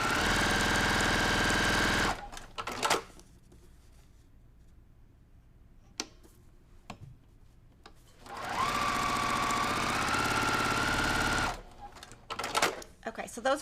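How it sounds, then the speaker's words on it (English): A sewing machine with an open toe foot stitches a quilt block in two steady, loud, whirring bursts, separated by a quiet stretch with small clicks and handling noises. "Because it's really boring listening to the sewing machine."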